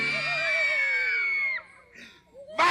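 A storyteller's voice imitates screams in a spooky tale, with a long sustained wailing cry, a short pause, then a brief sharp shriek at the end.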